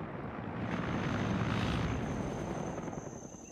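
Helicopters in a video game, a Huey and an Mi-24, give a steady distant rotor and engine drone that swells slightly in the middle and then eases, with no talk.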